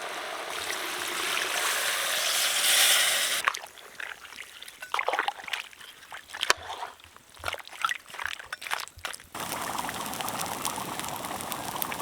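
Water poured into goat head meat gravy in a cooking pot, a steady trickling pour that gives way to bubbling splashes and clatter, then a renewed rushing stream.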